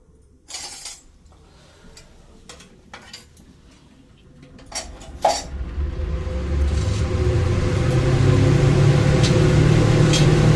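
Onions with ghee and a spice paste of dried chilli, pepper, bay leaves and cinnamon go into a pan with clinks and clatter, then a steady loud frying sizzle builds and holds to the end.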